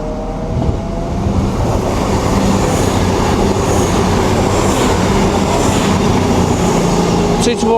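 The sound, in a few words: Cross Country Voyager train passing through Chesterfield station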